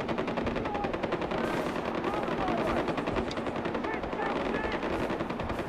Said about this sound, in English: You are shooting away my sambars.